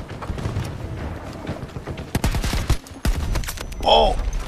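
Gunfire rattles in Battlefield 2042, with scattered shots early, then sharp, close automatic bursts in the middle, and a voice talking over part of it.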